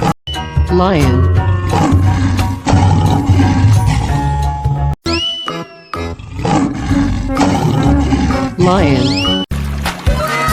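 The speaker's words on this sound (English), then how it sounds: "Lion." A lion roars repeatedly in an animated animal slide game, loud and close, over music and voices, with brief breaks between roars.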